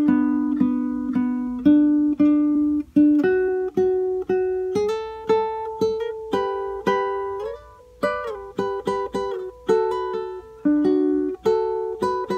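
Nylon-string guitar plays a melodic phrase from a Peruvian vals, picked single notes and double stops in a steady lilting rhythm, close and clear with no voices.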